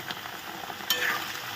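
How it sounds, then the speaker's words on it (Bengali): Mustard greens frying in a pan give a steady, moderately quiet sizzle with soft stirring scrapes, and a brief brighter clink lands about midway through. "এটাকে সুন্দর করে ভাজা ভাজা করে নেব।"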